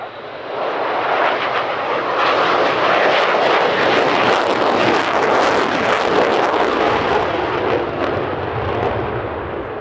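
A Dassault Mirage jet on a slow, high angle-of-attack pass at the RAF Cosford air show, a loud, dense jet roar that swells quickly and holds steady and powerful for several seconds.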